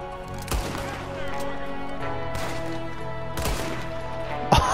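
Sharp gunshots ring out in Red Dead Redemption 2: a few spaced, loud cracks over a steady game soundscape, with a final shot near the end and some voices underneath.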